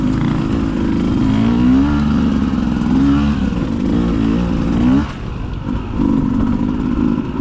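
A 2020 Beta 200 RR two-stroke dirt bike engine rides around corners, revving up and down in repeated surges with rising pitch sweeps, loud and close, easing briefly near the end before picking up again.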